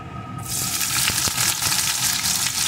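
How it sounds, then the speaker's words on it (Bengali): Fish oil crackles and sizzles in a pan after a brief quiet start, with a steady hissing fry and a few sharper pops throughout, close and fairly loud. "এখন এটাকে একটু ভেজে নেব।"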